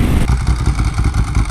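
A Ducati Pikes Peak motorcycle engine runs loud and close during a July 4th morning ride against a BMW S1000RR, giving a steady throbbing drone with rapid pulsing and clatter, no talk.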